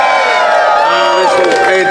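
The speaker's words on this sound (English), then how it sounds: "Let's give Lee and Karen a big round of applause." Audience cheering and clapping for Lee and Karen at a Green New Deal Virginia gathering, a loud, close burst of crowd noise with hubbub running throughout.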